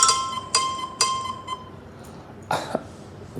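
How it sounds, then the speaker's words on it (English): A phone alarm sounds as a series of bright, repeating beeps, three sharp tones about half a second apart and then two more after a short pause, fairly close and clear over a quiet room. "That was my alarm."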